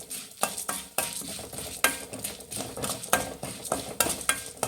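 Cumin, cinnamon, cloves, pepper and cardamom dry-roast in a pan over a low flame, and a spoon scrapes and clinks against the metal in a steady rhythm of repeated stirring strokes, close and with no talking.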